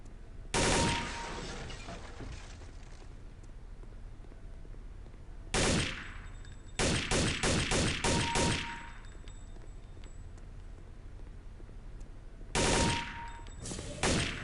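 Weapon fire at targets on a Counter-Strike: Condition Zero training range: a loud opening burst, a single shot near six seconds, then a rapid string of about eight sharp shots and a final cluster, each with a short echoing tail.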